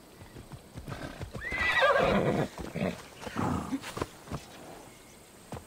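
A horse in Assassin's Creed Odyssey neighs with a loud, rising whinny, followed by a rumbling snort and a steady clip-clop of hooves, close and clear with no talking.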